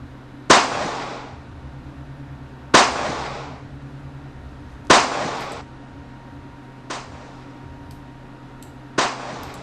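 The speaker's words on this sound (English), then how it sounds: "Google Glock Gunshot sound effect" Five sharp Glock pistol gunshots from a sound effect, evenly spaced about two seconds apart, each a loud crack with a quick decaying tail over a low steady hum.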